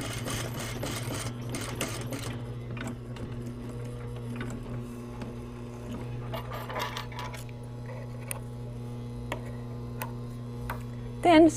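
A sewing machine stitches a short seam in a jacket lining, a steady close mechanical hum with a fast rhythmic ticking, then slowing into scattered clicks as the stitching stops.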